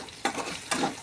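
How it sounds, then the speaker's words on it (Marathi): Fish sautés in a pan with onion-tomato masala, a close sizzle with two quick scraping stirs in a single second, and no talking. "तुम्ही बघू शकता आपल्या मासल्या चांगल्या परतून झालेले"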